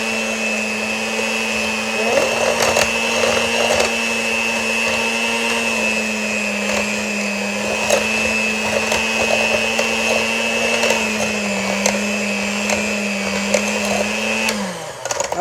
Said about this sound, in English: take your mixer, or you can hand mix it. It doesn't have to be an electric mixer. And mix all that together.